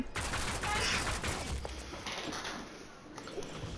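Rapid automatic gunfire in a small-town gun game, bursts of fusillade-like shots that are loud at first and then fade into sparser, quieter shots.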